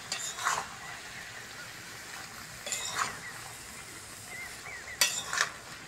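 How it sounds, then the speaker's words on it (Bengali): Eggplant pieces go into curry frying in a pan, giving three short bursts of stirring and clattering against the pan over a low sizzle, quiet and close with no talk. "অনেকক্ষণ কষে নিয়েছি, এবার বেগুনটা দিয়ে দেবো।"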